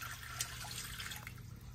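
Water with panela poured into a pot for a cinnamon oat drink, a steady close splashing stream with a few brighter drips and clinks over the continuous pour.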